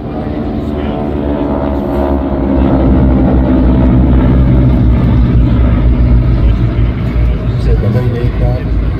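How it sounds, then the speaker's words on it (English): A propeller aircraft at an air show drones steadily overhead, a loud continuous engine hum that swells slightly midway, heard beneath a commentator talking over a public address. "That is Dave Salter's machine that just peeled off"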